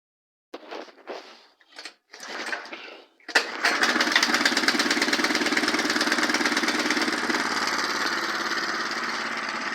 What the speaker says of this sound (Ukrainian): Як бачите, двигун працює